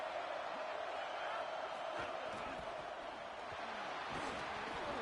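Football stadium crowd roaring as a steady, dense wash of noise throughout, with occasional louder swells, a play-by-play voice talking over it.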